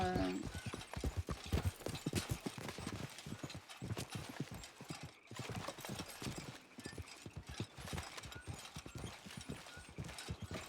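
Horses' hooves clip-clop steadily over a hard surface in an outdoor setting, a quick, continuous rhythm of fairly close, crisp strikes with a faint whinny near the start.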